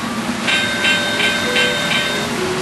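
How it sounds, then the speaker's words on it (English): A button on a Christmas HO model railroad layout plays a recorded train sound effect: a steady rolling rail rumble with rhythmic clicking beats about every third of a second, moderately loud and close. "And over here we have a little button for train sounds."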